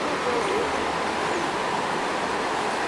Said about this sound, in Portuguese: Ó, choveu, porque tá correndo aqui a água.